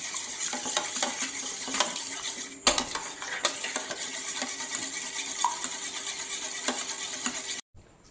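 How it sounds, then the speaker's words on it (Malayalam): Beaten eggs and milk whisked together for scrambled egg, a brisk run of close metallic clinks and scrapes of utensil against bowl, steady for several seconds before a brief pause and a sudden stop. "അതും കൂടി ചേർത്തിട്ട് വീണ്ടും നന്നായിട്ടൊന്ന് യോജിപ്പിച്ചെടുക്കാം"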